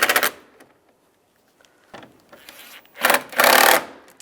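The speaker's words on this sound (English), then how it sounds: "take these screws, get these started, and snug them down" Screws driven and snugged down on the air deflector of a 1999-2005 Volkswagen Jetta, heard as short close bursts of power-driver whirring separated by quiet gaps, ending in a longer, louder run.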